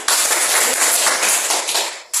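Short, dense round of clapping from a group of classmates in a lesson, loud and close, stopping abruptly.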